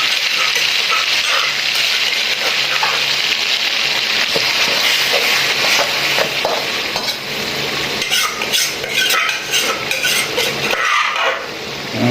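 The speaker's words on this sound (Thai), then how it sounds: "ถ้ามันร้อนเราผัดเอาน้ำพริกที่เราตำผัดเลย" Chili paste pounded in a mortar is stir-fried in a hot pan for a northern Thai offal and pork curry, giving a steady close sizzle with scraping stirs and occasional metallic clinks, no talking.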